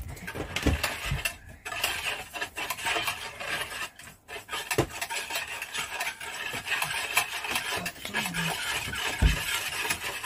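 Milk mixture for yogurt being stirred in a pot, a steady run of scraping and clinking utensil strokes close by, with no one speaking.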